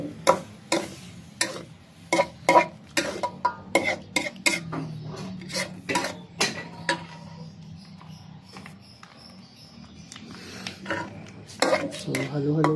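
A spoon stirs coconut milk (gata) in a pot for biko, giving repeated metallic clinks and scrapes against the pot at an uneven rhythm, close and clear, easing off midway before picking up again.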